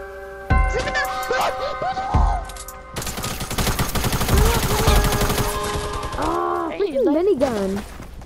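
A minigun firing in Fortnite, a dense sustained stream of rapid shots with other game effects around it and a player's voice talking over it.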